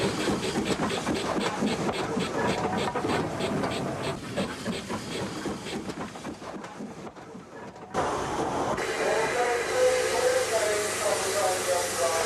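A model railway train hauled by a Schools Class locomotive rumbles and clatters steadily, with a louder, busier stretch of mechanical noise after a brief lull.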